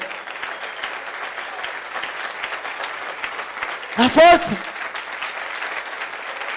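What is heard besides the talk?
congregation applauding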